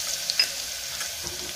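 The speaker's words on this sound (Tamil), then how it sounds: "அப்புறம் இஞ்சி பூண்டு பேஸ்ட் ஆட் பண்ணிக்கலாம்." Ginger garlic paste fries in hot oil, giving a short, close, steady sizzle with a faint stirring click or two. No voices are heard.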